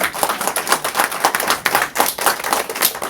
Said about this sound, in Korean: 박수 한번 쳐주시기 바랍니다